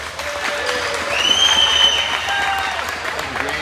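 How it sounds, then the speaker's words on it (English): Crowd in a gym at a high school volleyball game applauding loudly and steadily, with a whistle-like tone and light voices mixed into the clapping. "Big round of applause for BSN."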